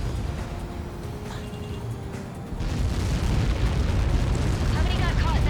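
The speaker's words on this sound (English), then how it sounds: "How many got caught in that explosion?" A large impact explosion in the Ace Combat 7 video game, with a deep, sustained boom that swells and roars loudly near the end, with a low musical tone beneath it.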